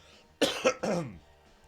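A man gently coughs to clear his throat, giving two or three short, close, soft coughs in quick succession before falling quiet.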